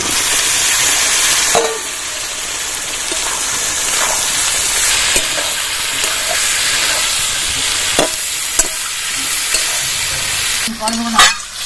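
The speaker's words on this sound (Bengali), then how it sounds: "সিদ্ধ ইঁচড়গুলো এবার দিয়ে দিচ্ছি কড়াইতে" Boiled green jackfruit being stir-fried with turmeric and salt in a kadai for a chana dal dish: a loud, steady sizzle throughout, broken by occasional spatula scrapes and clatters against the pan.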